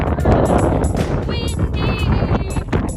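Strong gusty wind on a very windy day in Utah, roaring and buffeting hard against the microphone for the whole stretch, with faint whistling tones above the rumble.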